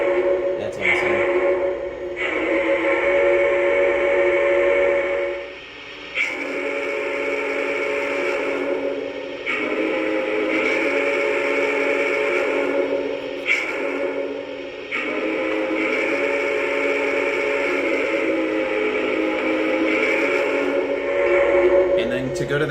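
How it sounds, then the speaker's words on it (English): A steady, sustained steam whistle from a Lionel Brass Hybrid Union Pacific Challenger model train blows almost continuously, with two brief dips where the tone cuts out and resumes, loud and close. "And then to go to the next whistle,"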